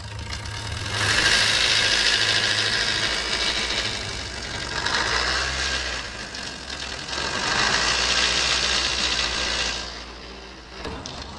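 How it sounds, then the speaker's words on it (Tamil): A running vehicle engine idles close by with a steady, rough mechanical drone that surges and eases several times before quieting near the end, with no talk over it. "சார் இப்போ வண்டி வண்டியை ஸ்டார்ட் பண்ணியிருக்கிறாங்க வண்டி சவுண்டை இப்போ கேட்போம்"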